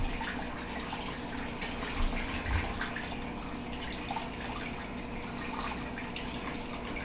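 Water poured into an axolotl aquarium tank, a soft, steady rushing and splashing that runs evenly throughout, faint and close with no talking.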